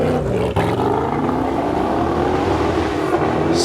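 A Noble M600 supercar with Noble's V8 engine launches off the line at the Goodwood Festival of Speed supercar shootout, a loud, close engine roar climbing steadily in pitch as it accelerates, with no talk over it.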